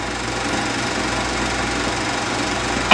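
Allis-Chalmers WD-45 tractor engine running under power in a 1950s field or yard setting, a steady close mechanical drone with a low throbbing rhythm throughout, and a brief louder clatter right at the end.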